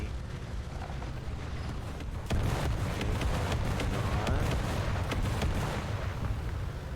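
Tank cannon fire in a tank combat video game, a heavy boom that hits suddenly and then rolls on as a loud, sustained rumble with crackling, against constant battlefield noise and no speech.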